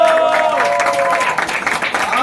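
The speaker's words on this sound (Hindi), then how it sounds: "जोरदार तालियां।" A crowd at a film trailer launch applauds loudly and steadily while a voice and some tonal sounds carry on over the clapping.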